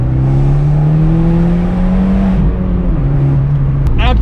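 An Abarth 124 Spider with a Monza exhaust revs loud and close, its engine note climbing steadily in a sustained drone before easing off, with a brief throaty change near the end.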